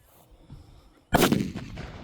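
A Chinese double-A firecracker goes off with a single sharp, loud bang after a quiet pause, followed by a short crackling tail that fades away.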